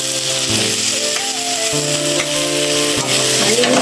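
Potatoes drop into spice paste frying in a pan for a snakehead fish kalia, giving a loud, steady sizzle with stirring clatter and a faint tonal hum, no one speaking.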